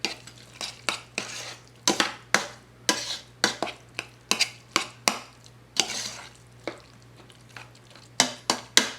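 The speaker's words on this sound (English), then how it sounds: "We'll mix that up again really good." Mashed cauliflower being stirred in a pot, a spoon scraping and slapping through the thick mash in repeated close strokes with a steady rhythm, over a low constant hum.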